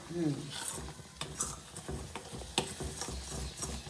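A spoon stirs a thick seven cup barfi mixture of gram flour, sugar, ghee, milk and grated coconut in a pan, giving repeated scraping and soft sizzling strokes close by, with a voice talking in between.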